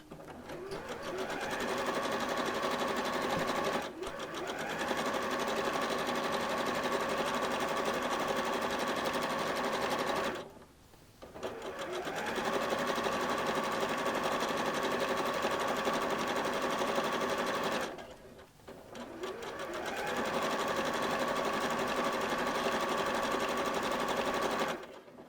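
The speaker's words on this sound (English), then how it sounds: "we're just going to sew 2 lots of gathering stitches across the skirt" Domestic sewing machine running long gathering stitches across a skirt panel for a bubble-frock cami top, three sustained steady runs separated by two brief pauses, close and loud.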